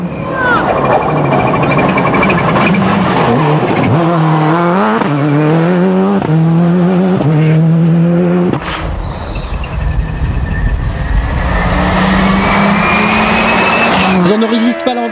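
Subaru WRC rally cars race hard along a special stage of the 2008 Rallye du Limousin, engines rising and falling through rapid gear changes and passes, loud and near, with a commentator speaking over much of it.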